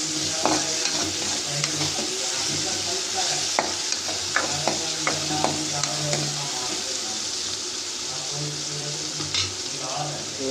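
Tomatoes for a chapati gravy fry in a pan while being stirred, a constant sizzle broken by frequent scraping clicks from the spoon, close by with little else.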